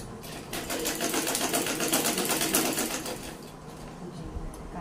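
A sewing machine stitches fabric in a fast, even run of rapid needle clatter that holds steady for several seconds, then slows and stops near the end.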